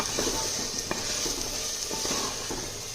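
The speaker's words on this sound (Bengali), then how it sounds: "সেদ্ধ আলুগুলো দিয়ে ভালো করে কিছুক্ষণ কষাবো।" Boiled potatoes with spices being sautéed in a clay pot, a dense, constant sizzle with faint scraping and tapping from stirring throughout.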